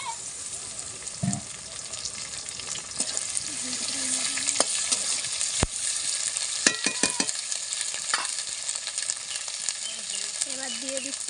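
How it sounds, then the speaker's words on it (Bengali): Fried prawns go into a wok with salt and garlic and ginger paste, sizzling loudly and continuously with stirring clatter, while a voice speaks briefly in places. "তারপরে কড়াই দিয়ে দেবো ভাজা চিংড়ি মাছটা"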